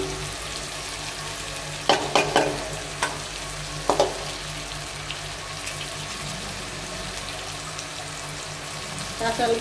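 Green chilies stir-frying with leafy greens and jackfruit seeds in a pan give a steady low sizzle, with a few clattering spatula stirs scattered through.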